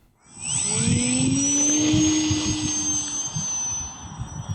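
Skynetic Sbach 342 flat foamie RC plane on a 3S battery flying outdoors in strong wind, a steady whining electric motor with a rising and falling pitch, fairly loud and close, over gusty wind rumble.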